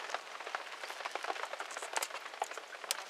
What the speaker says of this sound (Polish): Trochę dzisiaj pada